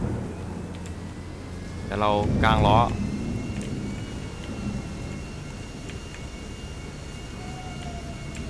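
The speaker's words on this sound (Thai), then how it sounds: "ฟ้าผ่า" Rain and a long, low rumble of thunder from lightning in GTA 5 play on in the background while someone talks briefly over the storm.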